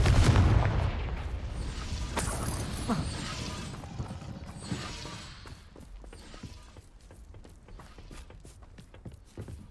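Fire blast spell Confringo cast in Hogwarts Legacy, a loud booming burst at the start with crackling, clattering impacts and debris afterward, fading into lighter scattered clicks and mechanical rattles.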